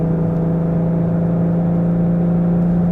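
A Jeep fitted with a cold air intake pulls at full throttle up a small hill in fourth gear, its engine droning loud and steady with a sustained low hum throughout, no voices.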